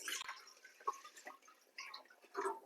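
Water from a glass being poured into an electric rice cooker that is switched off, a quiet trickle with small drips and splashes in a home kitchen.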